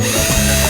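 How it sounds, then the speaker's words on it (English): A power drill boring an extra hole in a rubber bicycle cable grommet, a loud, steady whirring drone held throughout a brief burst, close up, with no talking. "I decided to drill an extra hole in one of the grommets"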